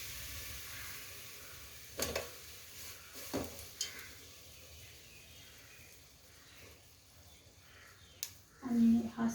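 Jaggery heats in a pan over a medium flame for sesame laddoos, with a faint low sizzle and a few soft scraping stirs, and a voice speaks near the end.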